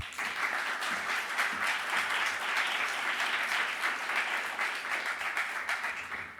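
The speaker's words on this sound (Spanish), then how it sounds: "Démosle un gran aplauso de bienvenida." An audience at a talk on storytelling gives a warm welcoming applause, a dense, even wash of many hands clapping that holds steady for about six seconds before starting to taper.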